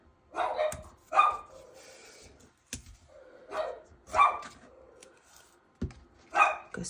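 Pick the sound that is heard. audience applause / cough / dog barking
dog barking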